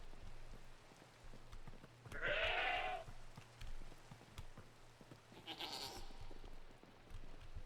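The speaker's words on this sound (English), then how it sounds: "Oh, the goat's actually here." A goat in a modded survival video game bleats twice, a clear nasal cry followed a few seconds later by a shorter second call, over faint patter and a low steady hum.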